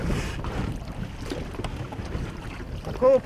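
An inspectors' patrol boat closes in on a poacher's fishing boat off the Barents Sea coast. The engine and water make a wind-buffeted rumble that stays fairly quiet, with a short tonal burst near the end.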